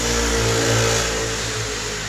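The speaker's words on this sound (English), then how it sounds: "We'll wait for that motorbike to pass." A motorbike hums past nearby, its mid-pitched engine holding steady and swelling slightly before fading.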